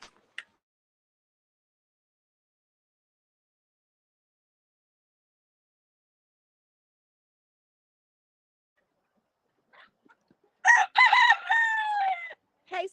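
A rooster crows loudly once, close by, in a chicken yard, with brief clucking around it after a long near-silent stretch.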